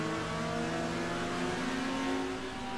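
A rear-wheel-drive BMW race car in a sim racing game at Nogaro, engine droning steadily and loud with sustained tonal harmonics, held at high revs in wet conditions with no pauses.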